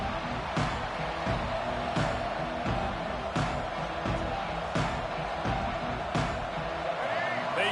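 A Nebraska football stadium crowd roars in a steady broad wash of cheering and noise, continuous and loud throughout, while an announcer talks over it.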